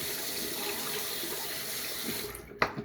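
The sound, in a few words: water rinsing a freshly shaved head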